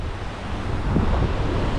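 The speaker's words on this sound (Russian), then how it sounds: "После обеда поднимается ветер, поэтому озеро неспокойное" Steady broadband wind rush with lapping lake water and waves, a continuous outdoor roar without voices.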